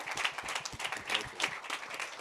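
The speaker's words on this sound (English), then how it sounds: "some big applause for this very, very successful day" Audience applause at the close of a conference day at the Digital Alps Conference in Lienz, Austria, a steady wash of clapping from many hands across the whole stretch, moderately loud with no talk over it.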